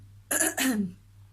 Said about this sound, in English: may have to keep stopping for cough breaks